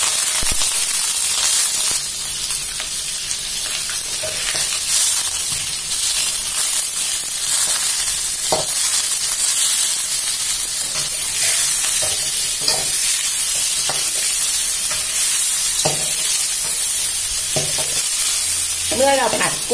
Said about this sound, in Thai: เมื่อเราผัดกุ้งเริ่มเสร็จตัวดีแล้วนะคะ